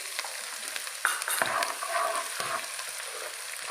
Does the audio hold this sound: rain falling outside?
no